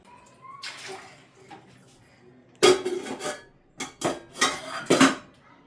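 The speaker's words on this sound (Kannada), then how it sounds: "ಚೇರ್ ಹಾಕೊಂಡು ನೀನು ಪಾತ್ರೆ ತೊಳೆಯೋದು ಬೇಕಾ?" A child at a sink washes steel dishes and pots, with splashing water and bursts of loud metallic clattering and banging that come close together in the second half, after a quieter start with soft voices.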